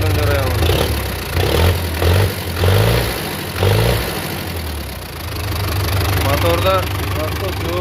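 A used tractor fitted with a 2011 Qachir engine runs at a steady idle, its low rumble rising in a few short surges, while someone talks over it throughout.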